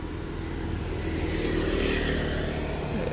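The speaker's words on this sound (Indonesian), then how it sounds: "Dari kejauhan terlihat ada satu unit bus Pangeran ya." A Pangeran microbus drives past on the road, a steady engine rumble and tyre noise that grows a little louder as it approaches, with no voices.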